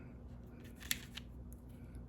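An inexpensive RJ45 passthrough crimp tool snaps through the ends of a Cat5/Cat6 cable with a single sharp close click, followed by a fainter second click against a quiet hum.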